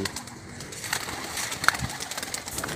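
Racing pigeons at a pigeon club release in Norzagaray coo in soft, repeated throaty calls close by, with light wing flutters and brief rustles mixed in over a low outdoor background.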